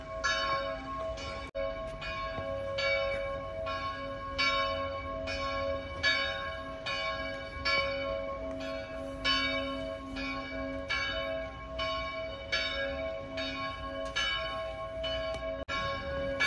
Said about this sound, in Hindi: अभी चर्च में घंटी बज रही है,